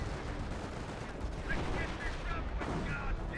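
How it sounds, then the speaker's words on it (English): Distant booming shell fire from a Hummel self-propelled artillery piece in Company of Heroes, a few muffled thuds and rumbles under a dense battle bed of gunfire. "Hummel firing back on the infantry as the Firefly tandem is back in operation"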